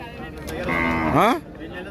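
A single drawn-out moo from a two-month-old calf, rising then falling, fairly close, over a low background hum, at a cattle market.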